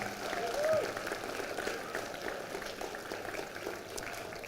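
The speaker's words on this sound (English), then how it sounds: "Give yourself a round of applause for that" A small group applauds steadily indoors after a talk on gross national happiness, a dense wash of clapping at moderate level with faint voices mixed in, lasting a few seconds.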